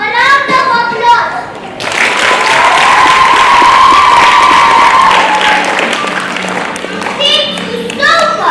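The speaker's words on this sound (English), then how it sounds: "A round of applause." Audience applause at a Year 1 school presentation at Oshwal Academy Nairobi Primary: loud, sustained clapping and light cheering swell after a spoken introduction and fade as talking resumes.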